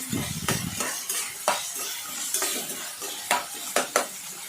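Onions sautéing with salt in a pan are stirred briskly, each stroke a sharp scrape or clack over a soft sizzle, coming in an uneven, close rhythm with no voices.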